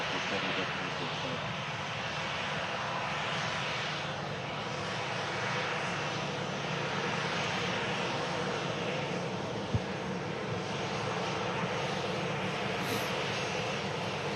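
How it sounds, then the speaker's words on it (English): TUI Boeing 787 Dreamliner rolling for takeoff on runway 23 right at Manchester Airport in the rain, a steady broad jet engine roar heard from a distance, continuous and even throughout. "TUI Dreamliner now rolling on 23 right"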